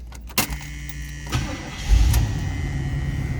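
The engine of a 1979 Chevrolet Camaro Sport Coupe cranks briefly with a few clicks, then catches and settles into a steady, rumbling idle close by.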